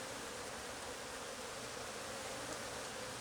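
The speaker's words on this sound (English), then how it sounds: "These bees are on me. They're on me today." Aggressive honey bees swarm close around a beekeeper, a dense steady buzz filling the air with no gaps, loud and continuous like a cloud of wings right at the ear.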